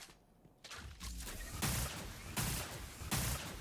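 A heavy weapon firing a barrage in the Diablo 3 game: a series of loud, broad blasts roughly every three quarters of a second over a rumbling bed, no talk.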